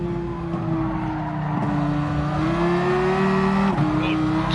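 A GR1T race car in the Gran Turismo Sport racing game holds a loud, steady engine drone close up, dipping briefly near the end as it downshifts for a corner before picking back up.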